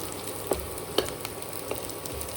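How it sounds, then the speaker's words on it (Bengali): Dry red chillies, bay leaves, black pepper and garam masala fry in hot oil in a pan. A soft, constant sizzle is broken by a few sharp scrapes and taps from stirring. "শুকনো লঙ্কা তেজপাতা গোলমরিচ আর গরম মশলা একটু ভেজে নেব"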